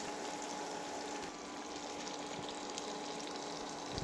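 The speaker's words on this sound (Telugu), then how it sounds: "దీన్ని స్లో మీడియం ఫ్లేమ్లో మెల్లమెల్లగా దీన్ని ఫ్రై చేసుకొని తీసుకోవాలి" Fish fry in oil in a pan over a slow, medium flame, giving a faint, steady sizzle and crackle that runs without a break from start to finish, with no talking.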